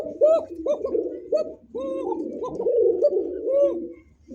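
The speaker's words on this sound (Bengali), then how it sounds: "তো দুইটা কবুতর ডাক দেখছেন, অরিজিনাল এটা বাসিরাজ নাকি?" White Bashiraj pigeons, a male and a female, coo in repeated throaty rolling phrases, close and fairly loud, with a few softer calls between them.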